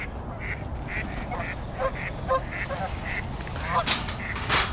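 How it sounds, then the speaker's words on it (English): Ducks quack in a series of short, repeated calls close by at a pond, joined by a few louder squawks near the end over a steady outdoor background. "Lots of geese and ducks at the pond today."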